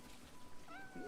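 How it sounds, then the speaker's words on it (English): A cat in the video game Crimson Desert gives a short, faint rising meow near the end, over a soft background hum. "Is this your cat?"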